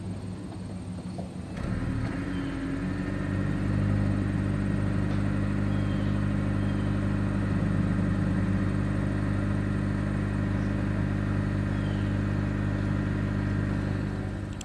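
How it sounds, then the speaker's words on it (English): A 2023 Honda Insight with a single hidden exhaust outlet starts up and settles into a steady, even idle, a smooth low hum that holds through to the end. "As always, here is that exhaust clip."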